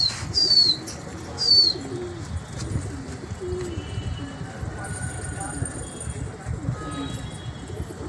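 Domestic pigeons kept by fanciers flying outdoors, with soft cooing and a few high chirps over constant crowd chatter and background noise.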